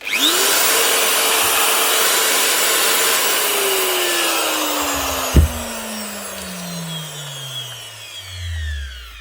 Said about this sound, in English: One Bosch die grinder.